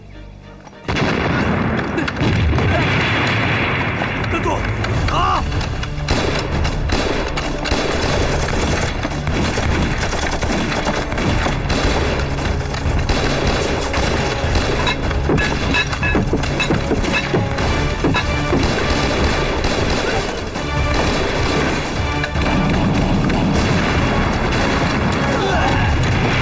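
Grenade blasts and rapid gunfire fill a Chinese war film battle scene, loud continuous bursts and booms, with shouted voices mixed into the chaos.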